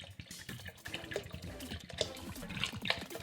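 Water poured into a pot of potatoes and beans for soup, a soft continuous splashing and trickling with a few light drips, fairly quiet and close, with no talking.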